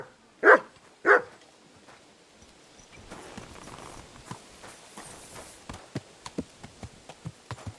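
The dog Mutt in the medieval game Kingdom Come: Deliverance 2 gives two sharp, close barks, followed by quieter hoof clops and light steps.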